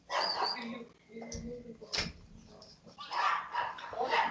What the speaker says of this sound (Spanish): los perritos empezaron